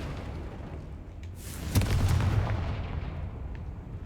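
A Confringo fire spell explodes in the video game Hogwarts Legacy, a sudden booming blast that swells from a rumbling background and lingers with crackling rumble for a couple of seconds; no talk.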